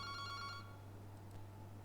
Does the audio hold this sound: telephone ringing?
yes